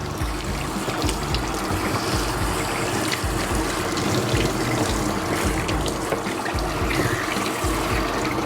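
A shower head sprays water continuously and loudly during a Bichon dog's bath, a dense, steady rush with slight splashing variations and no talk.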